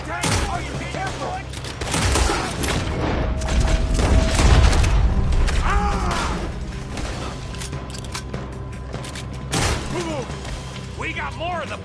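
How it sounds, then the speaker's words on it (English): A gunfight in Red Dead Redemption 2 with repeated gunshots and booms over ongoing game ambience, swelling in the middle and trailing off, while voices talk in between. "Looks like we're shooting our way out of here, fellers."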